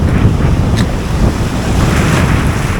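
Ocean waves surge and wash in steadily on a rocky shore during sea-egg gathering, a loud, close, continuous rush of surf mixed with heavy wind buffeting the microphone.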